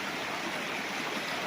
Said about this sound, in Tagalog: Yung ilog na tabi mismo ng property.